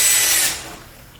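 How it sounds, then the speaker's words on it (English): A power drill boring into a wooden ceiling while hunting for a stud, a loud high-pitched whine that fades off in the second half of a short burst. "watching Nick drill about 50 holes in the ceiling"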